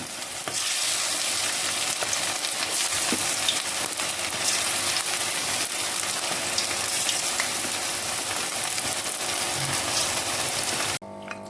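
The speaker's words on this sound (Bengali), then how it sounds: "তেল গরম হয়ে গেছে, চিকেনগুলো একটা একটা করে এবার ছাড়বো।" Chicken pakora pieces frying in hot oil over a medium gas flame give off a loud, steady, dense sizzle that carries on unbroken and close up, then cuts off abruptly near the end.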